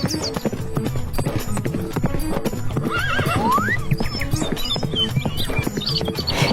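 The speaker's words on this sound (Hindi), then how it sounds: "चतुरी ने एक घोड़ी खरीदी और कुछ रुपए उसकी पूंछ में बांधकर चल दिया।" A mare's hooves clip-clop steadily along with a whinny partway through, set against a busy backdrop of music and other sound in a spoken Hindi folk tale.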